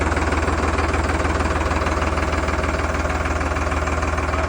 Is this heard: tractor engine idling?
yes